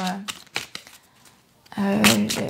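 Tarot cards riffle and slide in short bursts, with a longer shuffle near the end, under someone speaking French throughout.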